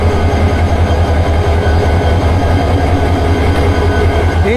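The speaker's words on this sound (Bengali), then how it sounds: "ইঞ্জিন গরম হচ্ছে" A 2600-series locomotive of the Udayan Express sits warming up, its engine giving a loud, continuous low rumble and drone close by, steady and unbroken.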